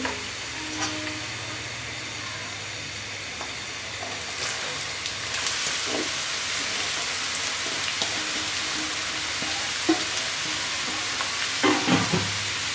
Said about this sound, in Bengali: এবার আমি ভালো করে একটু নেড়ে দিচ্ছি।